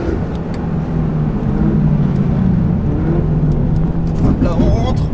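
A Peugeot 308 race car accelerates on the Nürburgring, a steady close engine drone with rising revs over the whole stretch as the front end pulls through a corner, while someone talks over it throughout.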